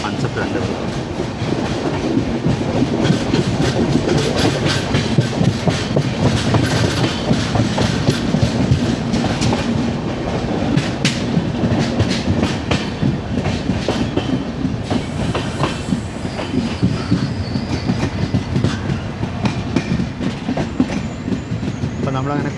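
The 12431 Rajdhani Express heard from inside an AC 3-tier coach between Shoranur and Vadodara on the Konkan Railway: a continuous loud rumble with steady clickety-clack from the wheels and occasional squeals, with low voices now and then.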